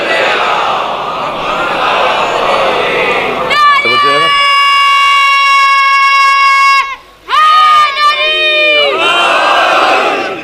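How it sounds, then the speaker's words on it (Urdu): A large crowd loudly recites salawat in unison at a religious gathering, then a long held melodic call rings out, followed by another surge of massed voices. "سب کی سلامتی کے لیے، پوری امت کی سلامتی کے لیے بلند تر صلوات"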